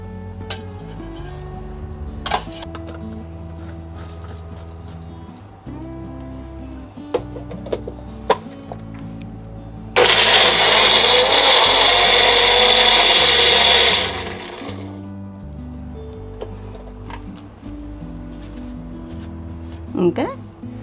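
Mixer grinder blending tamarind and garlic for a broad bean pickle, a loud steady whir lasting about five seconds in the middle, with clinks and handling noises and someone talking before and after.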